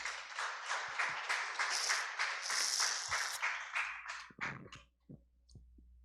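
A church congregation claps at a Spanish-language sermon, a sustained burst of applause that fades after about four seconds into a few scattered claps and quieter noise.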